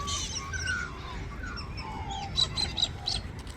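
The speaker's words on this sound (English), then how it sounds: "I can hear more birds up there." Birds chirp during an early-morning outdoor stroll, with light, scattered high calls and a few sharper tweets over a low rumbling background, no talk.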